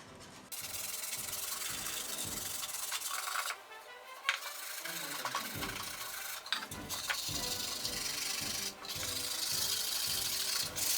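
A file or sandpaper rounds the edges of a wooden violin rib lining, giving close, continuous scratchy rubbing strokes with a few brief pauses and light knocks, fairly quiet overall.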